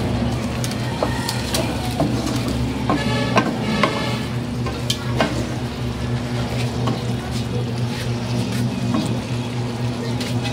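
Bicol Express is stirred as it fries in a pan, giving a steady sizzle with scraping and clinking from the utensil, close up and continuous with no talk over it.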